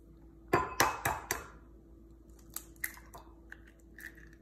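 Two whole eggs are cracked into a bowl: a quick run of four sharp shell taps, close and fairly loud, followed by a few softer clicks and a faint drip as the contents fall.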